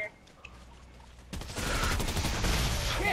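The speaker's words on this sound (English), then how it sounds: "I just heard another shot." Fortnite gunfire erupting after a quieter opening, a dense, loud burst of overlapping shots in rapid succession that keeps going to the end, with no talking.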